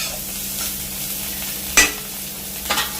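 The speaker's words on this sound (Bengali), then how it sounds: "এটা এখন একটু হালকা করে আগে ভাজি ভালো করে" Cauliflower florets fry lightly in hot oil with a steady, even sizzle, broken by one sharp utensil clack and a softer scrape near the end.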